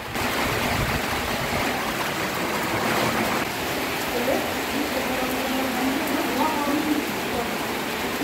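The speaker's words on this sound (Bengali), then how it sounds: "শুরু হয়ে গেছে বৃষ্টি। এই বৃষ্টি আর থামবে না সারাদিনে।" Heavy rain begins pouring outdoors in a Bangladeshi village, a dense constant hiss of drops on surfaces close by, with a voice faintly mixed in beneath the downpour.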